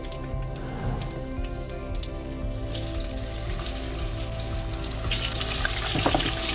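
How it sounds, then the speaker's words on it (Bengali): Diced potatoes hit hot oil in a home kitchen pan while cooking potol chingri, giving a steady crackling sizzle that swells louder around the middle and again near the end. "এবার আমি এই তেলের মধ্যে আলুগুলো আমি দিয়ে দেবো।"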